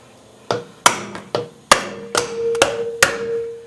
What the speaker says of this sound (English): I just want to hit the top of the springs with a hammer, just make sure that everything's set, everything's seated